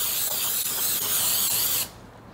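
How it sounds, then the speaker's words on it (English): A steady hiss of cooking spray onto a baking pan lined with paper, held for nearly two seconds, close and loud, then cut off abruptly. "I'm going to also spray the sides."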